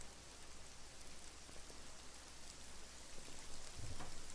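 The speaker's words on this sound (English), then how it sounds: "It's okay, raining." Steady rain falls with a dense, even hiss, growing slightly heavier toward the end, with no voices.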